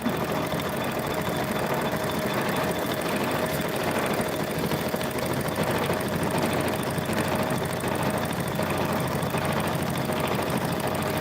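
A sewing machine stitches a quilted mug rug with a honeycomb design, running in a steady, continuous mechanical whir with rapid needle clatter and no pauses, close and alone.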